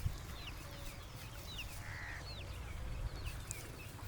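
Desi country fighting roosters give a few faint, distant crowing and squawking calls over a steady low rumble of background noise.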